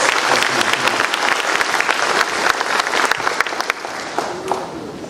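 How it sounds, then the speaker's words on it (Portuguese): A Pentecostal church congregation applauding, sharp dense clapping from many hands with a few louder claps standing out, carrying on steadily before thinning slightly at the end. "Uma salva de palmas"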